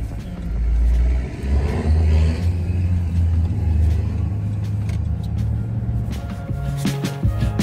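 Steady car engine rumble and road noise from inside a vehicle on a long family drive toward a Tobermory campground, continuous and fairly loud with low droning tones throughout, no talking.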